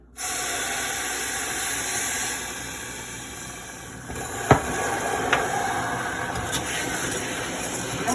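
Water poured onto hot melted sugar in a pan gives a steady loud hiss that holds for several seconds, then eases slightly, with a few sharp pops and crackles near the end.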